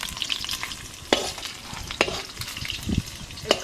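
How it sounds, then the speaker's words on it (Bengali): Fish frying in hot oil gives a steady crackling sizzle, broken by three sharp utensil clinks or scrapes spaced about a second apart; no one speaks. "একটু লাল লাল করে ভেজে নিলাম।"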